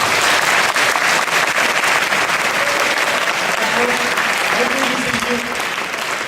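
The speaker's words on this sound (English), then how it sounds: "So a big round of applause for that." A school audience at a secondary school World Water Day presentation claps steadily, loud and sustained throughout, with a faint voice or two underneath near the end.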